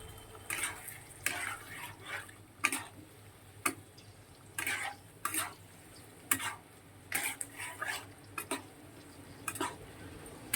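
Spatula or spoon scraping and clacking in a pan as fish curry is stir-fried with ginger-cumin paste, turmeric and chili powder, in repeated irregular strokes over a low background hum, with no voices.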